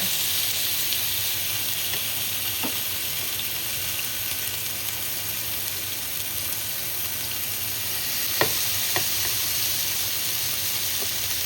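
Eight lamb chops searing in a hot pan, a steady loud sizzle and hiss throughout, with a few light clinks from the pan or utensils.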